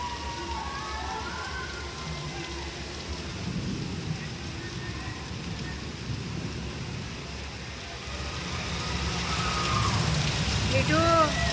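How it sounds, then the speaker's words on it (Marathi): Steady rain hisses and patters over a low background rumble, growing heavier toward the end, with faint voices and birds chirping. "आज नेमका पाऊस आलाय भरपूर मोठा बघा खूप खूप मोठा पाऊस आलाय"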